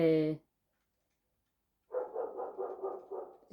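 A dog barks once loudly and then, after a silent gap, gives a rapid series of short, strained yips or barks, mid-distance and prominent.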